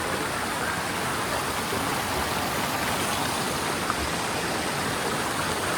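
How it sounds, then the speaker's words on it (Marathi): A mountain stream in Baisaran Valley rushes continuously in a dense, even hiss of flowing water, moderately loud and unbroken, with no voices over it. "किती म्हणजे किती पाण्याचा आवाज येतोय"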